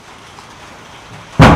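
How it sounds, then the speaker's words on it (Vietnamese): A thunderstorm breaks as rain arrives, a sudden loud crack and broad roar of thunder bursting in after a stretch of quiet low background noise, close and filling the end of the clip. "Mưa tới rồi cả nhà ơi."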